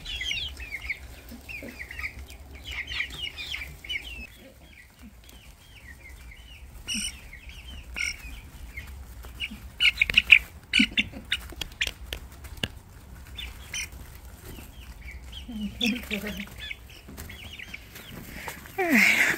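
Four-week-old American Bresse chicks peep and cheep in soft, scattered high calls outdoors, a busy flock chattering continuously with occasional louder chirps and faint background noise.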